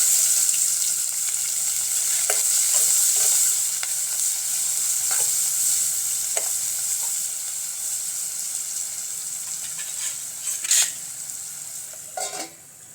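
Chopped onions and curry leaves fry in a pan with a steady, bright sizzle throughout, broken by scattered clicks and scrapes of stirring, with a louder clatter near the end.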